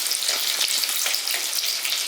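Ginger, garlic and onion sauté in a pan for chicken thoran, making a loud, continuous close-up sizzle with faint rustling from stirring and no voices.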